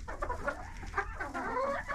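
Chickens cluck and murmur in a coop during severe frost of about minus 22 degrees, a steady close chorus of overlapping hen calls with a rooster among them, with no talk.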